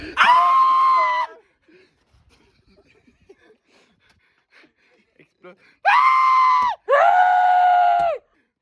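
Loud, harmonic screams burst out inside a truck: one long shriek at the start, then two more back to back after a quiet stretch, close and piercing.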